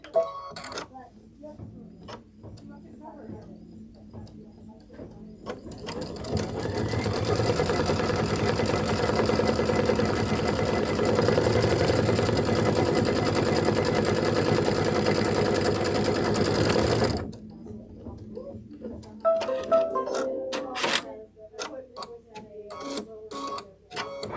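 An embroidery machine stitches the placement line for a house block in a Lori Holt Hometown flag-house quilt, a steady loud mechanical run of about ten seconds, with talk and handling noises before and after.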